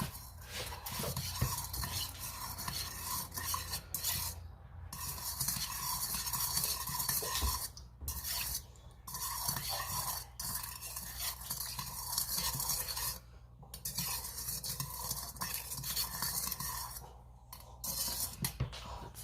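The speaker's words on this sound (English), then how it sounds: "So, all right, so I'm gonna put a lot of sugar in here. I'm gonna stir it up." Sugar is stirred into water in a container, with repeated close scraping and clinking of a spoon against the sides in uneven bursts, separated by brief quiet pauses, fairly soft overall.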